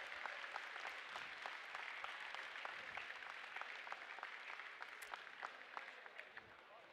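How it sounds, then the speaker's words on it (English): Audience applause for seniors at an FTC robotics Hydro League tournament in Iowa, a faint, distant, continuous patter of many hands in a large hall, with scattered louder claps standing out. "Let's get another round of applause for our seniors."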